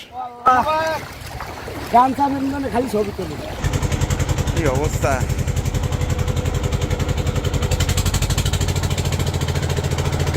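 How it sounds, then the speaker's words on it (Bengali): A trawler boat's engine starts up and runs with a steady, rapid chugging thump that carries on loudly, after a stretch of people talking at the start. "ভাসলো আমাদের ট্রলার"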